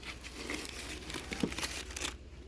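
Newspaper wrapping crinkles and rustles softly as items are unpacked, with several short crumples and tearing-like crackles in quick succession at close range and no talking.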